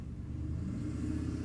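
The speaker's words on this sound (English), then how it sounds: "Someone's loud car coming past." A loud car drives past outside, a low, steady rumbling engine sound that holds at a fairly even level throughout without a clear rise or fade.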